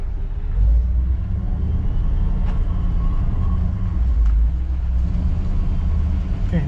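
A 1959 Chevy Bel Air engine idles while warming up, giving a steady low rumble throughout with a few faint clanks over it, heard from a moderate distance.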